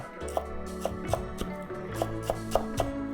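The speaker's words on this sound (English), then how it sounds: "And let's try to just chop this" A knife chops squid legs against a cutting board in a steady run of crisp, close knocks, about nine strikes over a few seconds, with a faint low hum of background music underneath.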